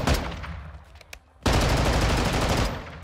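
Submachine gun fire in Call of Duty Modern Warfare II, a loud sustained burst of rapid automatic shots, then a short lull and another long continuous burst, close and dense.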